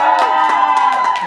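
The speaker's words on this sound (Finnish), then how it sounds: "Pitäkää nyt itselle vähän ääntä" A crowd at a Finnish live show cheers and whoops loudly, dense and close, with scattered claps and shouts rising over a steady roar for a brief moment.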